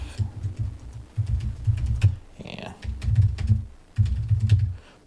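Someone types a password on a computer keyboard with quick, close clicks in short bursts, while a voice talks over the keystrokes.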